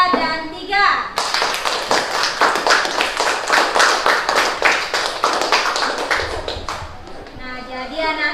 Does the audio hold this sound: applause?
yes